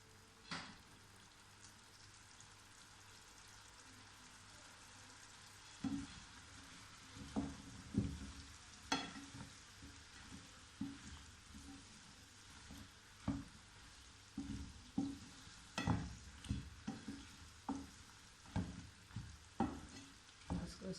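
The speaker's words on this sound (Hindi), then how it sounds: "इसी तरह हलाते जाएंगे और फ्राई कर लेंगे।" Green chillies frying in a hot pan with spices, a steady sizzle running throughout and scraping stirs from a spatula repeating from about six seconds on. No one speaks.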